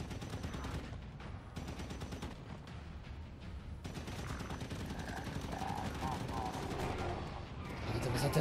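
Rapid gunfire from the video game Halo 5: Guardians rattles on without a break, a dense loud stream of shots over constant battle noise, with no one speaking.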